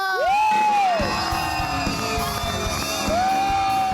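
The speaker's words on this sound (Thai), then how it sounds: "ถ้าพร้อมแล้วขอเสียงปรบมือต้อนรับผู้แข่งขันของเราทั้งป่าชา" A studio audience at a Thai television singing competition cheers, whoops and applauds loudly to welcome contestants, a dense continuous roar with sweeping whistle-like tones over it.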